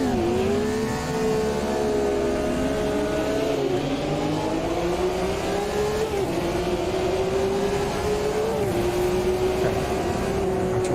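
Race cars in Automobilista 2 at the Nürburgring in its 1971 layout, engines droning loudly and steadily with rising and shifting whines as the pack accelerates together, a continuous close mechanical roar with no talk.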